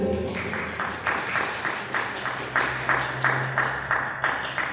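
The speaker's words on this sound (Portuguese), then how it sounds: "Mais palmas para Jesus." A church congregation applauds during a Friday afternoon service, dense clapping in a rhythmic, pulsing beat that carries on steadily, with a sustained hum beneath.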